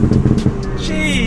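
A Ford Fiesta ST turbo hot hatch accelerates hard in a brief, loud burst of engine roar layered with turbo whoosh and hiss, heard from inside the cabin.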